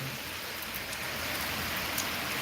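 Heavy rain pours down in a dense, constant hiss, with no voices, just the steady roar of falling water.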